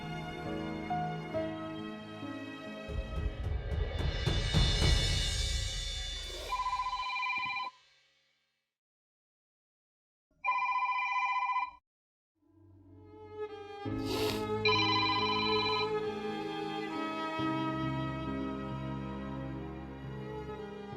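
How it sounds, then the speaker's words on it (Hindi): A telephone rings on an outgoing call in a drama scene: a long, melodic tone pattern plays, drops to silence, returns briefly, then resumes. "अभी सर अदनान के नंबर पर कॉल जा रही है।"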